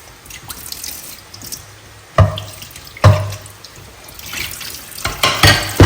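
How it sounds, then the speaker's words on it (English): Tap water runs over vegetables, tomatoes and beetroot for homemade tomato paste, as they are washed by hand in a sink. Splashes come in loud bursts and drips sound close by, with no talk. "Let's go ahead and wash our veggies."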